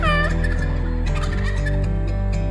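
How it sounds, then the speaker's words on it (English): A wild turkey gobbles during a hunt, heard as a rattling gobble over a steady, loud musical backing track. "Give him a yelp, see if you give him a gobble."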